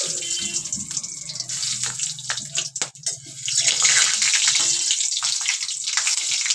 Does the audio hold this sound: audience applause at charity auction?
no